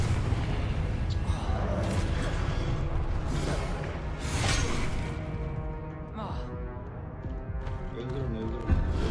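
A Confringo explosive spell bursts in Hogwarts Legacy: booming impacts and shattering blasts over constant battle noise, with a voice shouting over the clamor.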